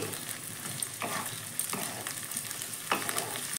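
Yardlong beans fry in a pan with a steady, close sizzle, broken by a few scraping stirs of a spatula; no voices.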